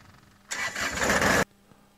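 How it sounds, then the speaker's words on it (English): A tractor engine cranks and catches, a loud, dense burst of roughly a second that starts abruptly and cuts off just as sharply, with only faint low background before and after. "I'm going to embellish the starting up of the tractor a little bit more"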